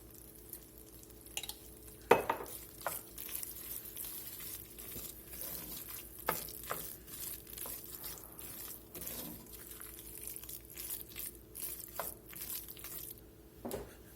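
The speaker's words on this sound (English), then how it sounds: "just going to let them sizzle in that roux there for just a minute or two" Chicken and sausage sizzle in a roux in a gumbo pot, a steady crackling fry with scattered stirring scrapes and sharper clinks, moderately loud and close with no talking.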